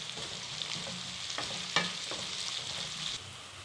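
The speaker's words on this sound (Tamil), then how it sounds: "இப்போ கருவேப்பிலை போட்டுக்கலாங்க." Onions and curry leaves fry in hot oil for masala dosa, giving a steady, close hiss with a few sharp crackles and stirring scrapes, and no talking.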